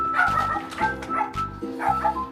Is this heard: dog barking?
yes